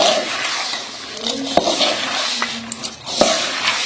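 Jaggery syrup poured into a dink laddu mixture of edible gum, a soft liquid trickle with a few sharp clinks of a utensil against the pan.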